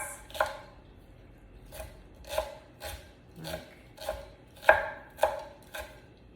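Knife chopping an onion on a cutting board while making a bacon and zucchini quiche, about a dozen crisp, evenly spaced cuts close by with a steady rhythm and no talking.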